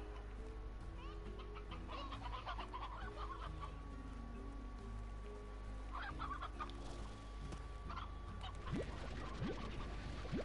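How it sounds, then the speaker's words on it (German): Rooster and hens clucking in Slime Rancher, a continuous farmyard din of overlapping clucks and short calls over a steady game ambience, with a few sharper squawks near the end. "Hier habe ich einen Gockel."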